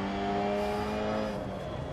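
In the DiRT Rally video game, a MINI Cooper S rally car on the Monte-Carlo stage gives a loud, close, steady engine drone as it slows. The engine tone eases slightly toward the end.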